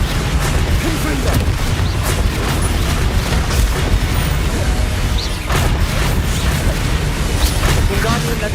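Confringo fire spell blasts in Hogwarts Legacy during a goblin battle, loud booming bursts breaking through a dense, continuous wall of combat noise with several sharp hits spread across the stretch.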